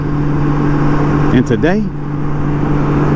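Honda Goldwing motorcycle engine while riding: a steady low drone with constant wind rush runs under someone talking near the microphone.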